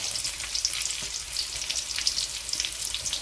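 Onions with dried red chillies and curry leaves sizzle and crackle in hot oil for a mutton gravy, a close and steady hiss with quick bright pops and no talk.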